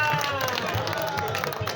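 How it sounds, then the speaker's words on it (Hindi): A qawwali audience bursts into loud, steady clapping and applause, a dense crowd rattle with some babble mixed in, filling the space throughout. "जरा जोरदार ताली हो जाए।"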